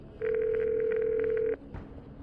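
A telephone call rings on the line: a steady, loud electronic tone holds for just over a second and then cuts off, leaving faint background noise with no voices.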